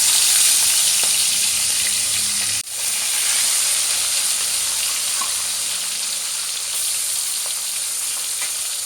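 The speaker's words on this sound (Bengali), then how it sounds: "এপিট ওপিট করে লাল লাল করে ভেজে নেব।" Tengra fish frying in hot mustard oil, a steady loud sizzle and crackle running the whole time with a brief dip partway, close by and with no voices.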